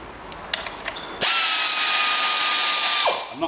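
A few light clicks, then a power tool whirs in a steady high-pitched burst for about two seconds on engine bolts for a SEAT Ibiza, stopping with a falling whine.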